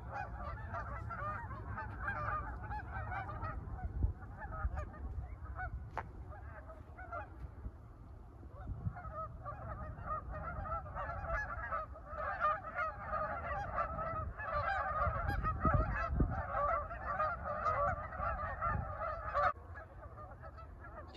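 A flock of geese honks and squawks across a muddy park, a steady, moderately distant chorus of overlapping calls that swells and fades, with no talking.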